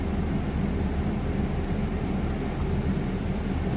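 Steady rumble of a Gold Coast light rail tram riding along, heard from inside the carriage as a continuous, fairly loud low drone with no speech.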